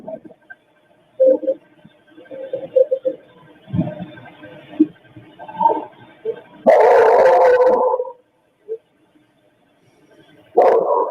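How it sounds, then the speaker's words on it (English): A dog barks and howls in scattered bursts with muffled voices and thuds around it, including one loud, drawn-out outburst partway through. "a dog barking for several minutes"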